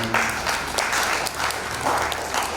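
A crowd at a university signing ceremony claps steadily and loudly, sustained applause rising and falling slightly over a couple of seconds.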